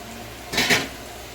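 A metal lid comes off a pan of paneer bhurji with onion, tomato and spice gravy, giving a single short clink and scrape that stands out clearly against a quiet kitchen background.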